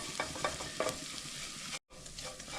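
Onions and shallots cooking with flour in a pot are stirred with a few scraping strokes over a soft sizzle, close up, with a brief silent gap near the end.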